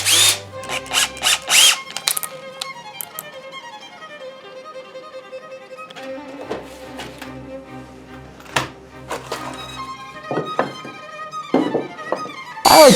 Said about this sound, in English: I'm going to use some wood screws to fasten it all together.